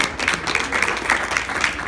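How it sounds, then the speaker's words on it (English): A seated audience at a public panel event on rethinking homelessness gives a steady round of applause, moderately loud and continuous throughout, with no voices over it. "big round of applause for everybody"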